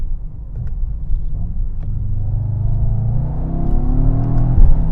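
A 2021 Mercedes-AMG E63S wagon engine accelerating, a steady low rumble that swells and builds in pitch over several seconds, close and prominent, with no talking.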